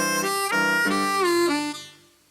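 Harmonica lick played alone, a few sustained reedy draw notes with the 2-draw bent down a whole step toward the 1-draw pitch, held and sliding, then fading out at the end.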